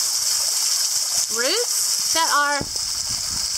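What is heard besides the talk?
water dripping from roots into mineral hot spring pool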